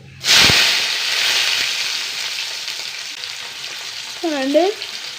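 Mustard seeds and small garlic hit hot coconut oil with a loud burst of sizzling that settles into a steady crackling fry, with a brief clink of a utensil near the end.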